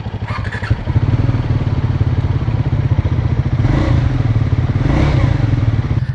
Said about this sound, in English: I'm going to fire up the Scrambler 400.